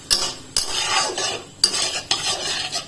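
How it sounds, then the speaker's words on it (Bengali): Pasta and tomatoes, seasoned with salt, are stirred in a pan. A utensil scrapes against the metal in several quick strokes, with a faint sizzle underneath and no talking. "দিয়ে এগুলোকে আবার এরকম ভাবে ভালোভাবে মিক্স করব"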